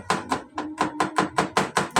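Garlic cloves chopped with a knife on a cutting board, about nine sharp, evenly spaced knocks in quick rhythm, close and clear with no talking.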